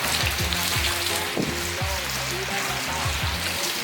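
Steady rain patters and hisses over a car being washed, a Toyota Yaris Ativ having its engine bay cleaned outdoors. The rain is a constant wash of noise with faint low background tones.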